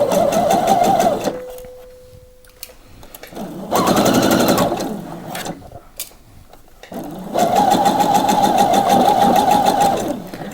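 A sewing machine stitching a 1.5 cm seam through three layers of a blouse, two yokes with the front between, runs in three loud, steady bursts separated by pauses with a thin held hum and a few small clicks.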